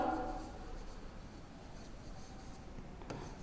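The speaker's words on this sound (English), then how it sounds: "I will write here the word" A pencil writing on paper, soft continuous scratching strokes heard close but faint, with a brief louder scrape at the end.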